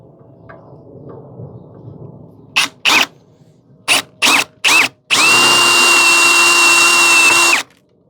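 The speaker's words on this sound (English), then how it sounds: "And the second method with step drill." A step drill bores out a rivet in a series of short, loud bursts, then settles into one long sustained whine of about two and a half seconds before cutting off.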